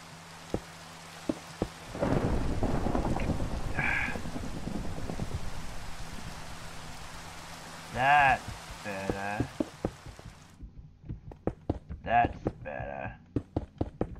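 Rain hisses steadily in Minecraft with thunder crashes, a loud burst of rainfall starting early and fading, heard under frequent talking and clicking game sounds.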